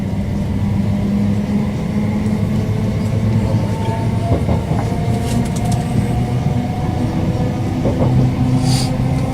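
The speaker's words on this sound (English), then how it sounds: "This is a Great Western Railway service to London Paddington." A Great Western Railway passenger train to London Paddington rolls steadily along the rails with a constant low rumble and faint rhythmic clatter, heard from inside a carriage, no talking.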